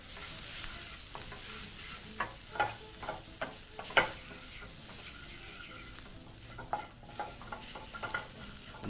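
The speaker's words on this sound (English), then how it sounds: "Proceed to grab your wooden spoon and begin to mix everything in your pan together" A wooden spoon stirs spices in a frying pan, with steady sizzling and a series of scraping, knocking strokes against the pan, loud and close, no voices.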